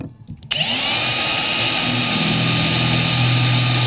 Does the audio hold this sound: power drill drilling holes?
yes